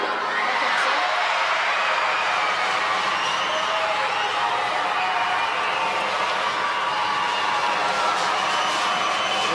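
Children cheer and shout in a crowd at a wheelchair curling match in Milan, a dense, continuous wash of voices and whoops filling the arena.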